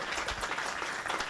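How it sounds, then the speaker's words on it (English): Brief audience applause at a panel discussion on al Qaeda in Iraq and Syria, a short burst of moderate clapping from a room of listeners. "A round of applause for Katie, for Ahmed, and for Elizabeth."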